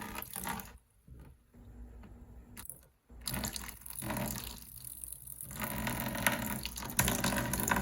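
Water pours and splashes steadily into a container, rinsing pulp off tomato seeds, stopping briefly a couple of times before flowing on, close and fairly loud.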